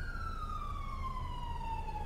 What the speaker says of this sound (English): Sirens in the area.